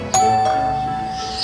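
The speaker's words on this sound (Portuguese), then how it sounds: "Olha, a campainha." A doorbell chimes once with a clear ding-dong, a sustained bright tone ringing out and slowly fading in a quiet home.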